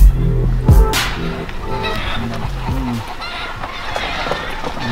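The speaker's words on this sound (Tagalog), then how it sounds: "Makikita ko na yung mga manok niya." Gamefowl chickens and roosters at a game farm cluck and call close by, with a brief crow near the start and people talking faintly in the background.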